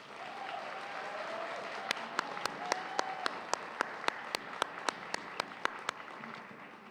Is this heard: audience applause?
yes